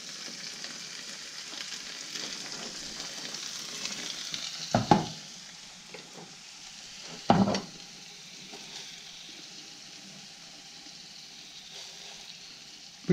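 Pieces of venison fry in a pan with a steady, moderate sizzle throughout, interrupted twice by short loud clunks of a utensil against the pan; no talking.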